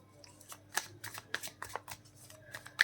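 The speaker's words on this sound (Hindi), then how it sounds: "मैं इतने कार्ड्स नहीं लूंगी, मैं एक एक कार्ड करके ही देखना चाहती हूँ।" Tarot cards shuffled and laid out one at a time during a reading, giving a string of crisp papery slaps and riffles at an uneven rhythm, close and fairly quiet, with no talk over them.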